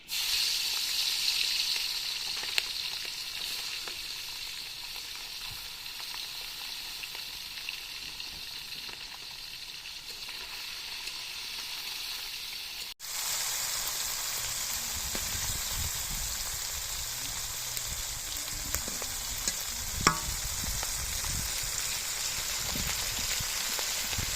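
Tengra fish fries in a pan of hot oil, a steady crackling sizzle that flares up louder and busier partway through and keeps popping and spitting to the end.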